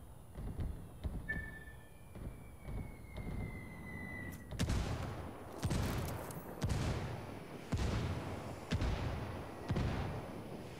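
Artillery fire in a video game, heard as a series of dull, fairly faint booms repeating roughly every second, with scattered sharper shots in between.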